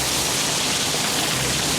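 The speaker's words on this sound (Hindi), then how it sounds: "बारिश बहुत हो गई है।" Heavy rain falling in a steady, dense hiss that fills the scene without break, loud and close.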